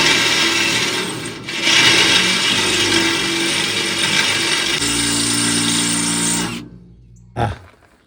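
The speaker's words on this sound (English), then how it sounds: "I hate dull drill bits." A power drill bores through thick steel on a 2003 Cateye dump truck while bump stops are being fitted, a loud, steady grinding whine that runs for about six and a half seconds and then stops, followed by a brief metallic clunk.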